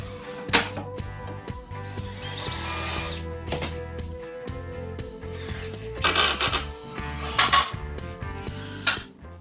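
A power drill drives screws into the bottom of a plywood kitchen-island cabinet laid face down. It comes in several short whirring bursts over a steady tonal background.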